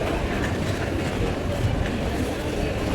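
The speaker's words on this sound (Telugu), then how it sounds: "ట్రైన్ అయితే వచ్చేసింది." The Paschim SF express train rumbles past nearby, a steady loud roar of wheels and carriages with faint rhythmic clatter, filling the scene without pause.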